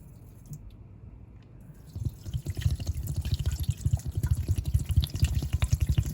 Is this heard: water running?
yes